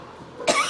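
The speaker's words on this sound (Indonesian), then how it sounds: "batuk banget" A single sharp cough bursts out near the end, close and fairly loud, following a quiet stretch of low background noise during a casual chess session.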